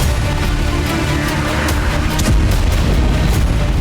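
Heavy, continuous rumbling booms from a fire-triggered explosion at a weapons depot in Lipetsk, Russia, after a drone strike. The blasts are loud and dense, with deep low rolls that swell slightly partway through.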